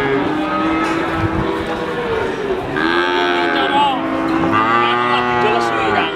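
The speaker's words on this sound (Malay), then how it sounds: "sinilah sapi bibitan betina dari Pasar Sapi Wakinan Margorejo Bali" Female breeding cattle at the Wakinan Margorejo cattle market, several long, loud moos close by over a murmur of market bustle, with speech in the background.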